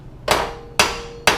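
Three sharp metallic hammer strikes on the hub bolts of a Jeep Wrangler JK during hub bearing removal, evenly spaced about half a second apart, close and ringing briefly, with no talking.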